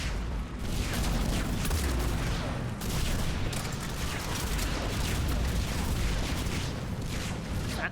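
Dense, continuous explosions and gunfire in Mass Effect 3 combat, a loud rolling barrage of booms and rapid shots with no pause, close and overwhelming throughout.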